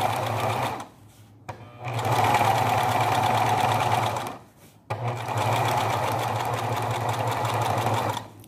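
A sewing machine stitches English embroidery onto a towel in close, loud, rapid bursts of steady mechanical clatter, separated by brief pauses.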